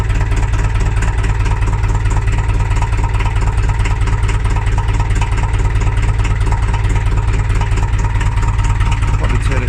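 A 4-cylinder FE35 industrial engine with no glow plugs idles just after a cold start, a loud, steady, close mechanical chugging with an even rhythmic pulse throughout.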